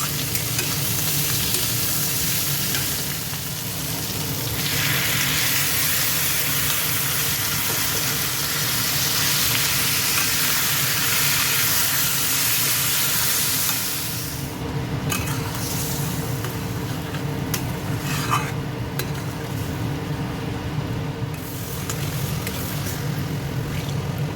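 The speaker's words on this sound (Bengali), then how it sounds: "এবার আলুটা প্রায় ভাজা হয়ে গেছে এবার ওর মধ্যে মশলাটা দিয়ে ভালো করে বসিয়ে নেব" Potatoes for aloo dum fry with a spice mix in a pan, a continuous close sizzle with stirring and scraping that shifts in texture partway through.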